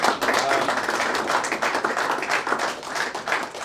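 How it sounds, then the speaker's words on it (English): Scattered audience clapping at a partnership announcement event between ZimSmart Villages and the Samp group, a brief, uneven burst of hand claps filling the room. "that deserves, an applause"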